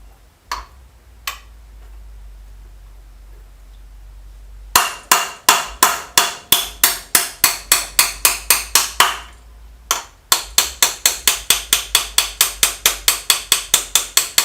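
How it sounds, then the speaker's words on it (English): A small tube is hammered against a tight part to tap it onto a BM 250 trials motorcycle crankshaft, with a few light taps, then a fast, even run of sharp metallic blows, a short pause and another rapid series, all close and loud. "use a little piece of tube to help us tap it on"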